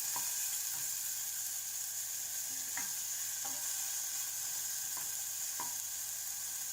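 Onions frying in a little oil in a pan, a steady close hiss of sizzling with a few soft taps of stirring, and no voices.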